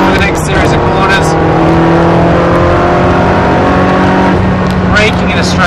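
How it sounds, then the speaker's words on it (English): Ferrari on the Silverstone circuit accelerating hard up through the gears to fifth, engine note loud and close, with steady harmonic drone rising between shifts and a voice talking over it throughout. "accelerating over to the left side of the road, up to 5th gear for the next series of corners"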